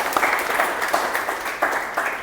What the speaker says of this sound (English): So a good round of applause to Kamal, please.